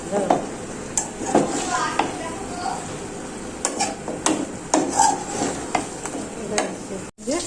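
Bottle gourd sautéing in a pan, heard as a soft continuous sizzle broken up by scraping and stirring strokes from a spatula against the pan, held at a steady, close level.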